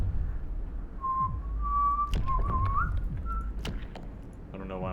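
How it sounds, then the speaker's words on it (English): A person whistles the Happy Birthday tune in a few clear, wavering notes, fairly close, over low background rumble from a city-building game. "I don't know why I'm whistling happy birthday."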